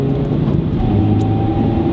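A Mazda 3 with a solid rear motor mount and manual gearbox, its engine droning steadily as it is shifted into third gear, a smooth continuous hum heard close from inside the car.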